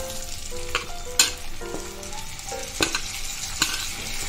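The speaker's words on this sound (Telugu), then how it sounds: "దీంట్లో ఇప్పుడు ఉల్లిపాయ ముక్కలు వేసి ఫ్రై చేసుకోవాలి." Chopped onions frying in oil for a dhaba-style potato-egg masala curry: a steady close sizzle broken by a few sharp spatula clinks and scrapes against the pan.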